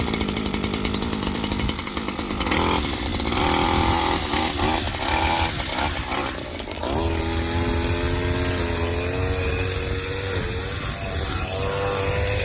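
A motorized power trimmer cutting grass at a lawn job buzzes loudly and continuously up close, its pitch dipping and then rising as it revs through the work.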